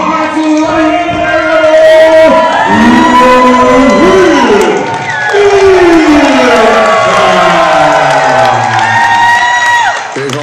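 A home crowd at a wrestling event in Hamilton, Ontario, cheering a wrestler's entrance, loud sustained roaring and whooping with entrance music throughout.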